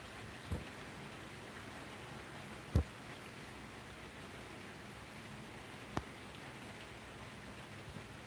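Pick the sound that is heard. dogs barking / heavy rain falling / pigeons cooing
heavy rain falling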